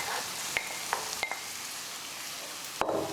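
Okra, also called lady's fingers, frying in a pan, heard as a soft, steady sizzle with a few sharp clinks of stirring scattered through it.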